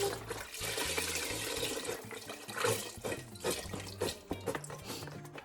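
Chicken broth pours from a full carton into a soup pot, a close, steady liquid glug and splash with uneven bursts that taper toward the end.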